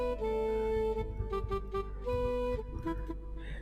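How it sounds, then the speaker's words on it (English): A soft, reedy Clarion Soft Octave wind patch played in FL Studio sounds a short melodic phrase of held and stepping notes over a steady low bass, moderately quiet and close. "I chose something called the Clarion Soft Octave."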